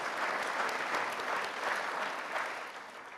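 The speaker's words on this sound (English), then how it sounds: "Give them a round of applause." Audience applause at a Michigan conference hosting a U.S. Senate Democratic candidates debate, a steady dense wash of many hands clapping that holds evenly before tapering slightly near the end, with no talking.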